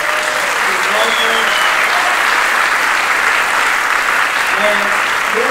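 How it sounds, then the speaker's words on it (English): A sold-out crypto event audience gives a loud, sustained round of applause, with cheers and scattered voices rising through the dense clapping. "Give a big round of applause."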